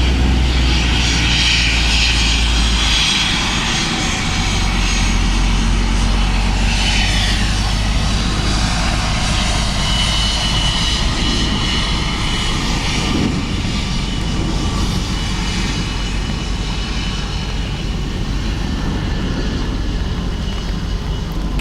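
KLM airliner from Amsterdam at Dublin Airport, its engines roaring loud and steady throughout with a deep, continuous rumble and whine, no speech.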